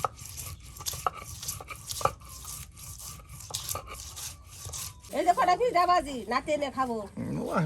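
Cumin, garlic and onion are ground together on a stone slab in a village kitchen, making rhythmic rasping strokes with sharp knocks, and a voice then talks over the grinding.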